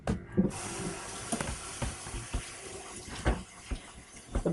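Water poured from a tap into a pan holding a whole chicken for baking, a soft running hiss with small splashes and knocks, fairly close and quiet, with no talking.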